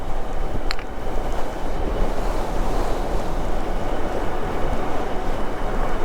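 Strong wind roaring past while riding a Velotric Fold 1 Plus folding electric bike, a constant loud broadband rush with no talking.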